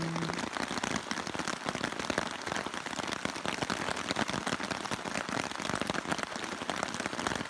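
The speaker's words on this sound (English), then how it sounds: "It's been pouring for about an hour." Heavy rain pours down steadily on the Appalachian Trail in Virginia, a dense, continuous patter drumming on a surface nearby, with no voices.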